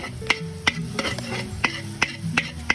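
Chili sautéing with onion and garlic in a pan, a spatula scraping and clacking against the metal in roughly regular strokes over a steady background sizzle, close and fairly loud.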